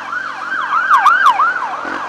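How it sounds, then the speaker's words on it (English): An ambulance siren wails in a steady, fast up-and-down cycle on a road, loud and close as it passes, with a few sharp honks in the middle and no voices. "Go ambulance!"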